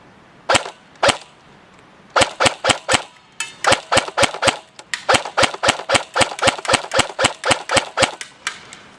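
Airsoft XM8 LPEG rifle fired outdoors at a target 125 feet away: about two dozen sharp, snappy shots, first a pair, then rapid semi-automatic bursts in a steady rhythm, close and loud with no talking.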